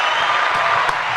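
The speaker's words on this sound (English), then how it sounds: "Let's get that applause in there for Kesh." Applause dropped in during a live-streamed talk show, a dense even burst of crowd clapping that stays loud and unbroken with no talking over it.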